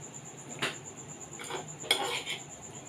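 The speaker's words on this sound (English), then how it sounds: "Now we are going to take the mixture and put it into the mixie jar." Prawn cutlet mixture being spooned into a mixer jar, with three short clinks and scrapes of a metal spoon against the container over a faint steady hum, no voice.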